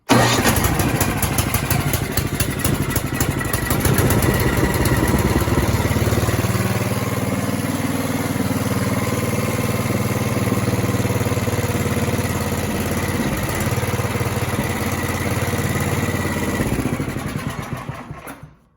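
Ariens 11528 snow thrower engine starts with the choke set and then runs steadily, a loud, close, continuous mid-pitched chug that holds for most of the clip before cutting off abruptly.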